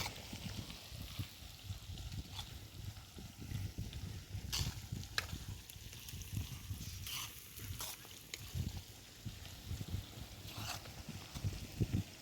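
Chopped onions frying in hot oil for a green chickpea curry, a steady close crackling sizzle with occasional stirring clinks and scrapes of the spoon throughout.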